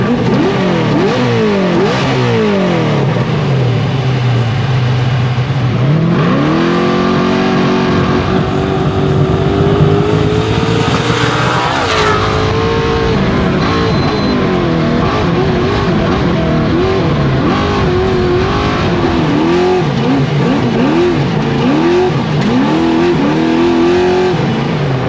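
Off-road race trucks at the Baja 500 roar continuously and loudly for the whole stretch, engines revving up and down through gear changes with one rising pass in the middle, no talk over them.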